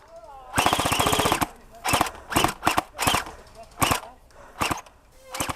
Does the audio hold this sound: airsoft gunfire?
yes